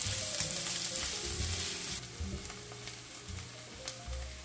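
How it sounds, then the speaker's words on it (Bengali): Chopped onion and garlic fry in a pan with steady crackling sizzle, punctuated by occasional stirring scrapes, close and moderately loud, with no talking. "রসুন একটু লাল হয়ে আসলে দিয়ে দেব পেঁয়াজ। ঠিক 1 মিনিট ভেজে নেব।"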